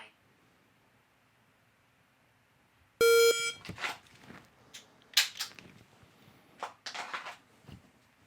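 A single sharp electronic beep from a Mantis X10 shooting trainer cuts through near-silence, followed by quick clicks and rustling handling noises.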